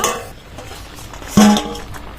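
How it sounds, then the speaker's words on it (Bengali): A metal lid lifts off a cooking pot of boiling green bananas with one clink and a short metallic ring, heard alone over a quiet kitchen background. "ঢাকনাটা খুলে নেব"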